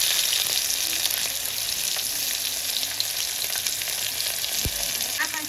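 Tomatoes tipped into chillies already frying in oil in a pan, village-style cooking of kanjra leaf bhaji, giving a steady, close, loud sizzle with a few brief clatters and a sharp hiss near the end, no voices.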